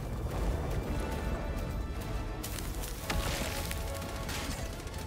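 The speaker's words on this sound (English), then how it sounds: "Explosions." Dense, continuous rumbling blasts and crashing booms from explosions in Helldivers 2, with an exosuit fighting bugs and bots, loud and chaotic throughout, with sharper bursts near the end.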